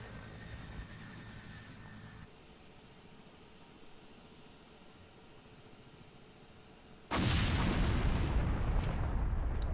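In the video game Resident Evil, a low steady hum gives way to a sudden loud, rumbling explosion that stays heavy and roaring to the end.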